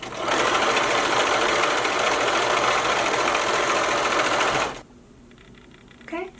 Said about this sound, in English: you're going to want to stitch again 1/4 of an inch away from that